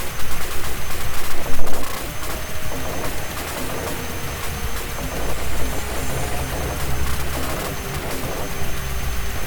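Rapid gunfire from the Sega Mega Drive shoot 'em up Alien Storm, a dense stream of shots over a low rumbling engine-like drone, steady and loud with a burst near the start and no speech.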